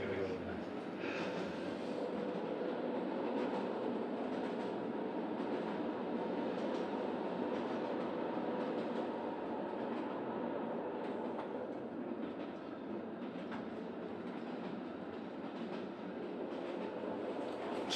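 A train travelling toward Milan in wartime Italy: a steady, close rumble with faint rhythmic rail clatter filling the whole span, while a voice talks over it.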